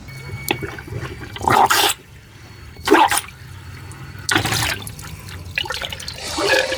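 Water gurgling and draining through a small, easily blocked sink drain on a MacGregor 26 sailboat, in loud sloshing bursts separated by quieter pauses.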